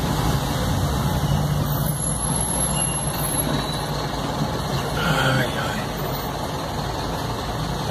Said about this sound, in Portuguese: Se abrir a janela aqui, vocês escutam o ronco do motor do caminhão.